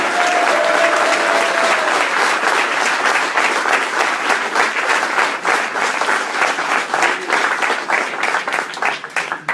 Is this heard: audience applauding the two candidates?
yes